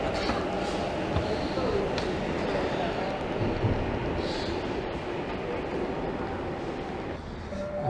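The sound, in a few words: Sydney light rail tram departing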